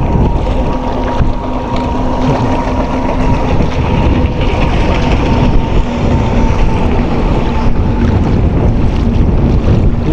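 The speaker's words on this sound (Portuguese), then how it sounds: "lá vem um jet para dar mais onda ainda" Jet ski running on a river and stirring up waves, its steady engine drone mixed with loud, constant wind buffeting the microphone throughout.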